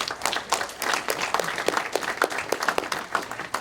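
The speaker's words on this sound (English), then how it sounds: "How about a round of applause for them?" An audience breaks into steady applause for the 2020 class of the Midland County Sports Hall of Fame, many hands clapping densely and continuously at moderate distance with no talk over it.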